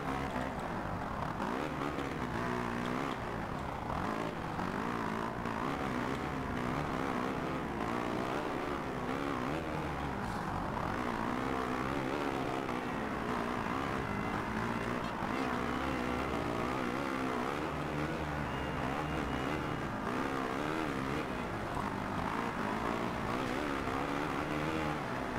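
Motocross bike engines, including a Kawasaki, whine and drone steadily in MXGP 2, a continuous layered buzz of several racing machines with no break across the run.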